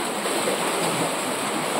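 Waves surging against rock formations along a coast, a steady broadband roar of churning surf without any voices.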